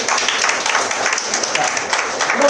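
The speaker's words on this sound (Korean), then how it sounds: "박수 한번 해주세요." Steady applause from an audience at a product presentation for a handheld camera gimbal, dense clapping filling the whole stretch at an even, fairly loud level with no pauses.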